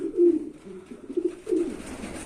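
Young racing pigeons coo in a loft, a soft repeated rumbling call rising and falling in several close, moderately loud bursts with no voices.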